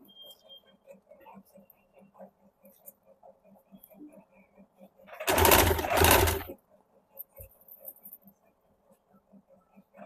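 A sewing machine stitches a suit collar in one loud, fast whirring burst of about a second, between stretches of quiet room sound.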